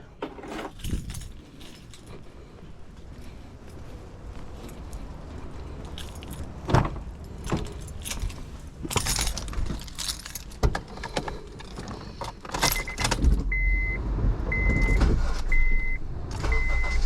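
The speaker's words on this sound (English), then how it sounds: "Let's start the car." Keys jangle near a 2008 Honda Civic after serpentine belt replacement, then its engine cranks and settles into a running hum, with clicks, a door and a repeating chime along the way.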